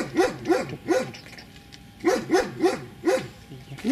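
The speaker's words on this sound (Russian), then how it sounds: "Вот где собака сейчас маленькая, вот, да. Охотничья." Small hunting dog barking in quick clusters of sharp yaps, two groups of three separated by a pause, close by, with no voices over the barks.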